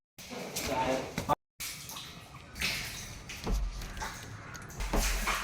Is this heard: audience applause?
no